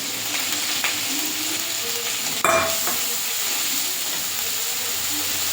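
Onion, garlic and ginger sizzle in a pan as chili, turmeric and cumin powder go in, a steady close frying hiss with a brief clatter and a burst of louder sizzling partway through.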